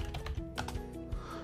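Rapid keystrokes on a computer keyboard, clicking quickly and irregularly at close range for a second and a half over a faint steady background hum, with no voices.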